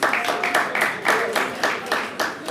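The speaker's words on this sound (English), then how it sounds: "Clap yourself for that." An audience claps at a Guyana Republic Golden Jubilee celebration, a brief burst of fairly close, lively applause whose pulsing claps fill the whole moment.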